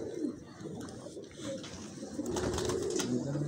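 A record-holding racing pigeon coos with low, rolling throaty calls, repeated over several seconds amid soft background chatter and rustle, fairly close.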